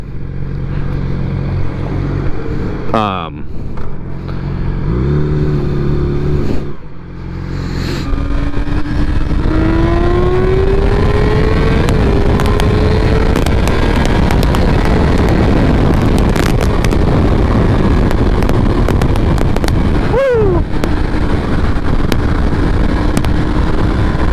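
A Yamaha R6 four-cylinder sport bike engine revs up and pulls through rising gear runs, loud and close under heavy wind rush, with several shifts and a sharp rev spike near the end; no speech.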